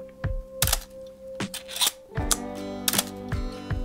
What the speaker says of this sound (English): Let's check the shutter from here too.